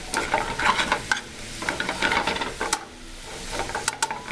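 Wild boar meat sizzles over high heat in a hot pan while being stirred, giving close, busy frying with repeated scraping and clacking of the utensil.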